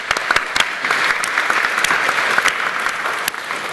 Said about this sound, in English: I think another round of applause for a big subject in a very short space of time.